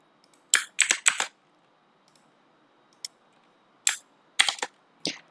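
Bursts of keystrokes on a computer keyboard as commands are typed into a terminal: several quick clusters of clicky taps separated by short pauses, close and clear against a quiet room.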